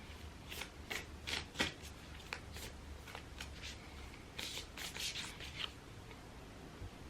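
Playing cards being shuffled in quick riffling bursts, close and crisp, with brief pauses between shuffles and no talking.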